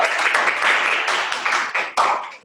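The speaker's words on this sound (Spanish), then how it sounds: "Aplauso de nuevo, por favor." An audience claps in a dense, continuous burst of applause that fades and then surges briefly before dying away.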